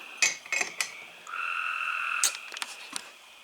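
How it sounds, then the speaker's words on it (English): Frogs croak in the evening in a few short rasping bursts, then a steady sustained trill of about a second before more scattered croaks, close and clear against a quiet background. "The frogs are croaking"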